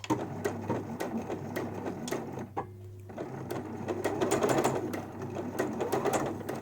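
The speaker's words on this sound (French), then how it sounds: "Bon, coudre en courbe, c'est pas le plus facile, en tout cas pour moi." A domestic sewing machine stitches a curved seam on a homemade fabric face mask, its needle rattling in rapid steady bursts with a brief pause midway before running on, close and loud.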